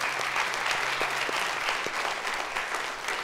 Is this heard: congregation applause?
yes